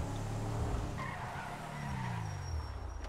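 Car tires in GTA V skid and squeal through a turn over a low engine rumble, the screech sliding downward in pitch and lasting the whole stretch.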